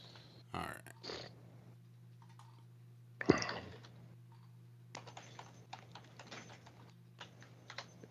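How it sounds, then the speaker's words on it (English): Keys clack on a computer keyboard in short irregular bursts, close and fairly quiet, with a steady low hum underneath and a brief loud clunk partway through. "I'm typing to the lovely folks there in the lovely chat."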